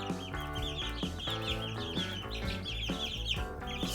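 Chickens cluck inside a coop, several birds making repeated close, chattering calls over a background of steady music-like tones and rhythmic pulses.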